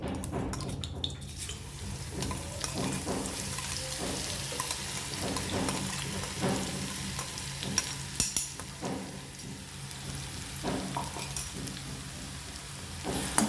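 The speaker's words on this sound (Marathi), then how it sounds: "आणि तेल गरम झालं की आपलं हिरवी मिरची आणि लसूण आपल्याला टाकून द्यायचं आहे त्याच्यामध्ये" Green chilli and garlic frying in hot oil, a dense continuous sizzle close up, hissing and spattering with small crackles throughout and no speech.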